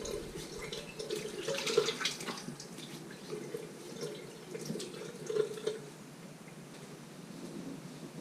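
Running water rinsing a freshly shaved beard outline, as at a bathroom sink: a steady, soft splashing flow with small surges and trickles, close and fairly quiet, with no voices.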